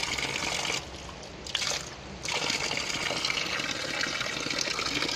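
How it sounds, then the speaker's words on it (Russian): Iron-rich, rust-tinted water from a Narzan mineral spring pours and trickles steadily up close, briefly quieter for a moment before the full flow resumes, with no talk. "А вот, собственно, источник Нарзанный."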